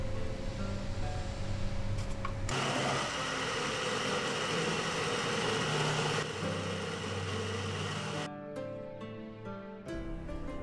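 Countertop blender whirring loudly as it purees red bean paste filling with water for snow skin mooncakes, a steady continuous motor drone that shifts pitch midway and tapers near the end.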